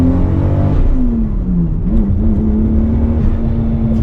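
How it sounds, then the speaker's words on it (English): A Mk4 Toyota Supra widebody in near-stock form accelerates hard under turbo boost, its engine droning loud and close as the pitch dips and then climbs steadily. "let's see what this thing is like under boost."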